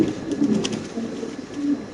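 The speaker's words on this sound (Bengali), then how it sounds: "ইন্ডিগো কবুতর, দুটি ইন্ডিগো ভাই দেখেন মাশাআল্লাহ" Indigo pigeons coo up close, soft low throaty calls repeating in a steady rhythm with no talking.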